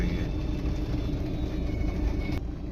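Cars idling in a traffic jam, a steady low engine rumble and road hum filling the scene throughout, with no clear horns or passing vehicles standing out.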